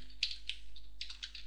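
Quick bursts of keystrokes on a computer keyboard, a few separated taps followed by a denser run of clicks, close and fairly quiet with no talking.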